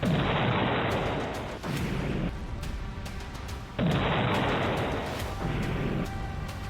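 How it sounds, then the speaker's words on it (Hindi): A series of loud, heavy explosive booms and crackling bursts from a motorbike engulfed in flames, several in succession, some overlapping, with no talking. "आग की लपटों में लिपटी बाइक और जोरदार धमाकों की ये आवाज।"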